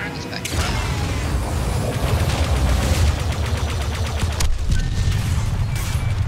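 Enemy gunfire in a Star Wars Battlefront 2 Starfighter Assault space battle: a dense, continuous barrage of blaster fire and impacts over a steady engine roar, with a brief break midway before it resumes.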